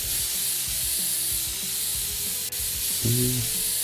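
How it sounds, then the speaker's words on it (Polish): Spray can in PC Building Simulator, a steady airy hiss running throughout at moderate level, with a brief low tonal hum near the end. "tu trzeba jakiegoś spraya"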